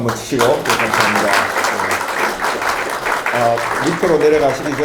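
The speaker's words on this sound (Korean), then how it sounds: "박수 한번 치시고 감사합니다." A congregation in a Korean church applauds during a pastor's installation thanksgiving service: steady, close clapping for several seconds, with a tonal voice or music running underneath.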